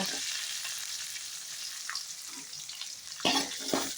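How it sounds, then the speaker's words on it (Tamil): Onions sautéing in oil for an okra curry give a steady, close sizzle with broadband crackle throughout, followed near the end by a few louder scraping stirs. "நல்லா எண்ணெயில் வதக்குங்க வெங்காயம் வதங்கிடுச்சிங்க"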